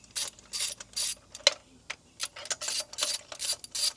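A ratchet wrench loosens spark plugs on a Mazda Miata engine, giving repeated bursts of quick, close metallic clicking with short pauses between strokes.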